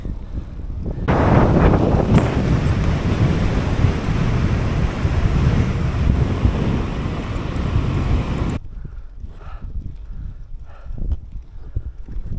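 Strong, cool late-September wind buffets the microphone on a cycling trip along the Danube, a loud, steady roar for about seven seconds that cuts off abruptly to a much quieter outdoor background.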